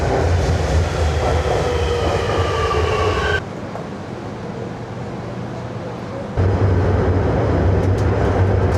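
A Qingdao subway train runs loudly with a steady roar and rail rumble, dropping quieter mid-ride before the full noise returns, with people talking faintly underneath.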